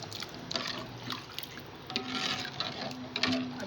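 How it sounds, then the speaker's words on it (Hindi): About three glasses of water poured into a cooking pan to start a broth for beef koftay meatballs, a close splashing, trickling flow with a few louder surges and no speech. "अब मैं इसमें तकरीबन 3 गिलास पानी डाल रही हूँ शोरबा तैयार करने के लिए इसका"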